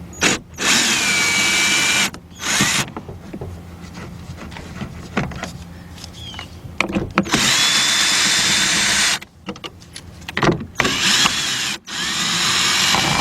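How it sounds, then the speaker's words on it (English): A power tool spins out the three bolts holding the window motor inside the door of a 2011-2014 Mazda 2. It comes as about five loud whirring bursts separated by short pauses. "Take those 3 bolts out of there."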